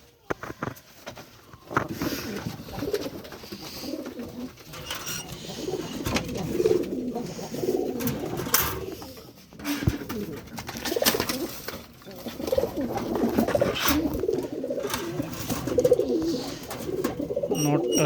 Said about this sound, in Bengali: এই যে পেয়ার দেখেন, সম্ভবত সিরাজি কবুতর হবে এটা।